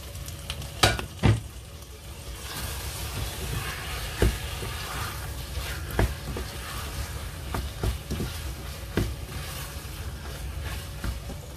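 Meat frying in a pan for Ethiopian zigni stew, with garlic already added. A steady low sizzle runs throughout, and a few sharp clatters and scrapes of a utensil come through up close. No one speaks.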